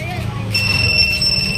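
A high electronic alarm tone from a Ducati SuperSport 1000cc motorcycle's two-way alarm sounds steadily beneath a person talking nearby.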